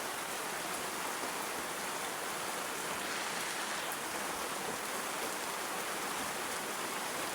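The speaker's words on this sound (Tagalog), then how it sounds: "So ngayon, dito sa amin, maulan." Steady rain pours outside a house, a dense, even hiss that holds without a break and has no voices over it.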